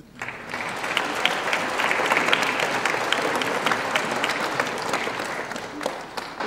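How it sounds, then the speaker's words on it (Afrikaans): Applause from a church congregation during a Sunday service, steady sustained clapping from many hands filling the room for several seconds before tapering slightly at the end. "Klap vir jouself."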